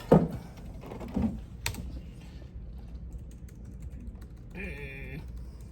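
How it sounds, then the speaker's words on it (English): Rapid keystrokes clatter on a computer keyboard, faint and close, with a short tonal beep toward the end. "Typing fast because I'm thinking fast."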